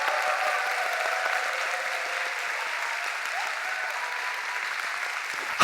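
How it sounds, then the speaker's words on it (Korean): A church congregation claps steadily and continuously, a dense, even wash of applause that holds its level throughout. "박수 한번 하겠습니다."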